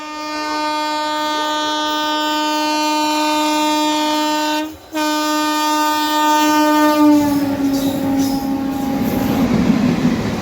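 A loud, sustained train horn blares close by as the Kolhapur–Nagpur Express crosses on an Indian railway, then the rumble and rattle of the passing train takes over and continues.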